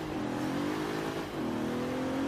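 A Bentley Continental GT rally build accelerates in Forza Horizon 3, a steady engine drone rising in pitch, dipping briefly as it shifts gear, then climbing again, loud and continuous with no talking.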